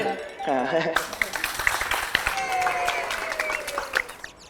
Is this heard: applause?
yes